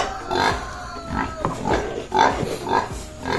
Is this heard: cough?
no